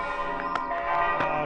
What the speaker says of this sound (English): It's typically a 15-minute bell service.